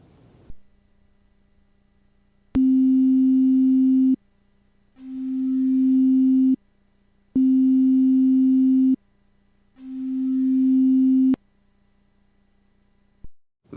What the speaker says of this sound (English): Let's listen to some fast and slow attacks.